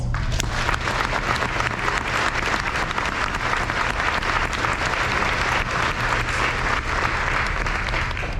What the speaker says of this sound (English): Please join me in giving our outstanding student recipients a well-deserved, enthusiastic round of applause.